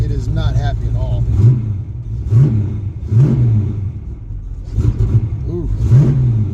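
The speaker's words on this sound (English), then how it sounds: "Well, it's idling, but it is not happy at all." A Ford Mustang project car idles roughly on its fast idle cam, its low engine rumble surging and dipping in an uneven rhythm, close and steady, while someone talks over it.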